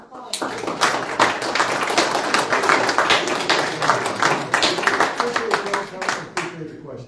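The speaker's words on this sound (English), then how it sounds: "Let's give one more round of applause." Audience applause after a history presentation, a modest group clapping in a lively, uneven patter close by, with some voices mixed in.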